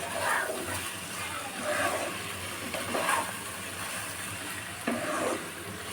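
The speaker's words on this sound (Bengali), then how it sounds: "এভাবে একটু সময় নাড়তে থাকতে হবে, নাহলে এটা জমে যাবে" Chilli prawns are stirred in a frying pan, giving a steady close sizzle broken by several scraping strokes of the spoon against the pan.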